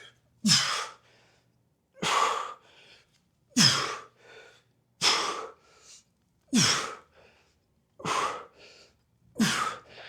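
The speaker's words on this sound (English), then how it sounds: "You guys hear me breathing." Heavy, rhythmic breathing during an ab workout, seven sharp gasping inhales about every one and a half seconds, each followed by a short exhale, close and fairly loud.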